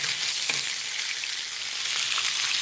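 Hamburger steak frying in a pan in a home kitchen, giving a steady, even sizzle with a soft crackle throughout and no talk.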